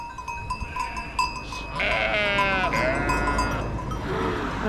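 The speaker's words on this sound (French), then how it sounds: "On a des chèvres du Rove." Rove goats bleat close by in a Provence garden setting, a couple of long wavering cries rising over outdoor background noise, with a few soft knocks before them.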